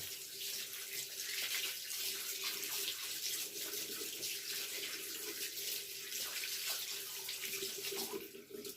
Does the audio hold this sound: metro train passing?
no